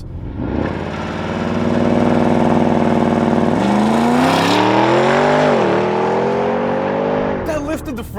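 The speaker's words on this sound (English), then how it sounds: "'23 Audi RSQ8 With launch control." A 2023 Audi RSQ8 with its 4-liter twin-turbo V8 launches hard under launch control, a loud, close engine roar climbing steadily through the gears with a brief shift dip, then easing off at the end.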